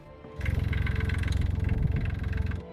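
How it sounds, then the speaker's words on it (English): A turbocharged motorcycle engine, the T800 with a tractor-like note, runs alone with a steady, loud, rapid lumpy pulsing that starts abruptly and holds for about two seconds. "all with the sound of a tractor"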